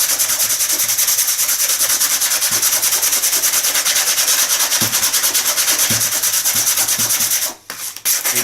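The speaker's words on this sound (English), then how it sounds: "taking some sandpaper, I'm using 80 grain. You basically sand the area you're working on, like so." Coarse 80-grit sandpaper rubs back and forth in fast, steady strokes on a model airplane being repaired, a loud close scratching rhythm that briefly stops near the end.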